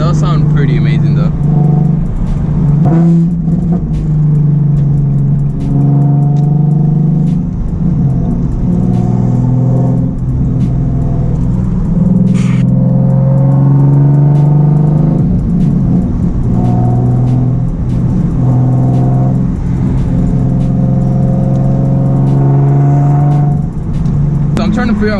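Heard from the driver's seat, a Nissan 370Z with straight pipes drones and rasps through repeated pulls, its engine note rising and falling as people converse above the constant loud rumble.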